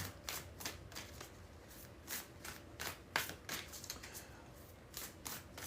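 An oracle card deck being shuffled by hand, with repeated quick riffling bursts and soft papery slaps in an uneven rhythm, close and fairly quiet, no talk.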